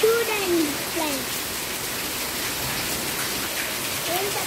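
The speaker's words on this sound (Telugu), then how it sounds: "వర్షం పడుతుంది కదా" Rain falls steadily in a dense, even hiss of drops, close and continuous, with a faint voice briefly audible at the start.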